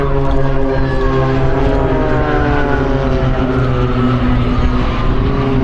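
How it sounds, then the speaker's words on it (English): An aerobatic aeroplane flies in an air display with a loud, steady propeller-engine drone. Strong harmonic tones shift slightly in pitch as it manoeuvres overhead, continuous throughout. "Keep an eye on the aeroplane and keep an eye on the smoke."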